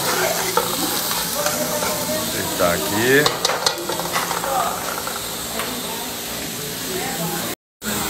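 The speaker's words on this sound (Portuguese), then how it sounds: "Aqui agora com os temperos para fritar" Spices such as turmeric, chimichurri, lemongrass, garlic and annatto frying in olive oil with bell pepper and onion for shrimp bobó, giving a constant close sizzle broken by scrapes and clatter from stirring, with speech nearby.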